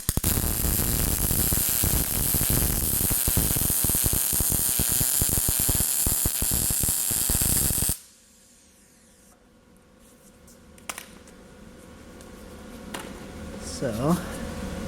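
MIG-style welding with a Vulcan Omnipro 220 on auto set for 1/8 inch, laying a bead on metal tubing: a loud, steady crackling buzz with rapid sputtering pops for about eight seconds, then it stops, leaving quiet room hum and faint handling noises.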